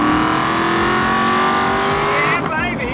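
Aston Martin sports car exhaust with a flap valve opening at 4,000 RPM, a loud sustained engine note rising steadily in pitch for about three seconds, close and strong, turning rougher and more raucous near the end.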